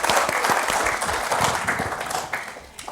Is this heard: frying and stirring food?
no